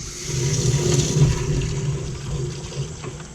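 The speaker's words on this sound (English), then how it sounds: "Fill this thing up with water." Water from a hose gushes and splashes steadily into a container, a low churning rush that swells and then eases slightly.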